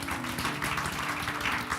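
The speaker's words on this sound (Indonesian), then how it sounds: "Kasih tepuk tangan buat Tuhan Yesus." A church congregation applauds during a Sunday service, steady massed clapping that fills the space for about two seconds, fairly loud with a faint tonal hum underneath.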